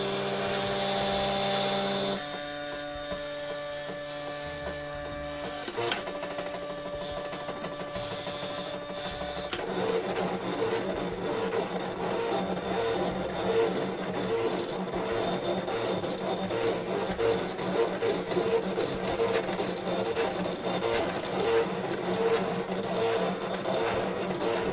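An electronic craft cutting machine cuts a scalloped circle shape from material on a cutting mat. It gives a steady, continuous mechanical whir with motor tones, starting with a brief click and shifting pitch as the blade moves.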